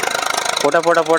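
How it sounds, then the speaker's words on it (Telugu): Eicher tractor engine running loud and rough, a steady thudding drone for the first half before a voice takes over and the engine fades beneath his speech. "ఐచర్ ట్రాక్టర్ సౌండ్ మాత్రం ఘోరంగా ఉంటుంది మామ."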